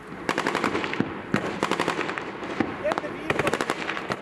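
Heavy bursts of machine-gun and rifle fire from a battle with IS fighters near an airport in Iraq, rapid cracks repeating in clusters over a low background, with talk partly underneath.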